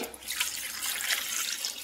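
Water is poured over three tomatoes in a cooking pot before boiling: a steady, close splashing stream that runs continuously, with no voices.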